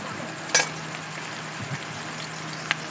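Spiced egg masala with sesame fries in a pan, a soft continuous sizzle broken by a few sharp spits and crackles as it cooks.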